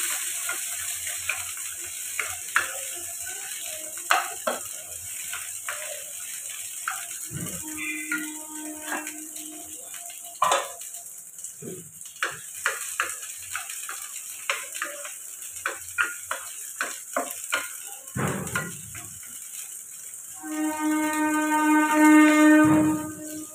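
Bitter gourd tipped last into already-fried vegetables in a pan, giving a steady close sizzle with scattered clicks and scrapes of stirring, swelling into louder frying near the end, with no talk.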